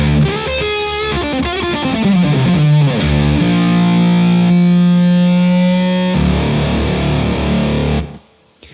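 A loud, saturated octave fuzz electric guitar on the bridge pickup at full rings out with a bright, cutting edge, sliding down a phrase and then holding heavy sustained notes before cutting off.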